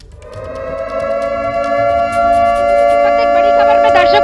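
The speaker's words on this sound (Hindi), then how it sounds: "ये सायरन बजा" A civil defense siren wails steadily ahead of the Supertech Twin Tower demolition in Noida, sustained and loud with a rising, wavering tone that runs through the whole stretch.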